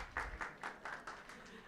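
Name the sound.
audience applause at a workshop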